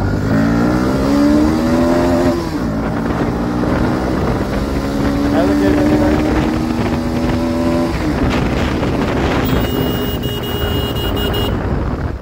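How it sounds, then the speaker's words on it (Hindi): Bajaj Pulsar motorcycle accelerating on a ride, its engine note climbing through several rising revs with gear changes, loud and close, under steady wind rush from riding. "जब खींचनी होती है ना गाड़ी देखो हम खींच लेते हैं।"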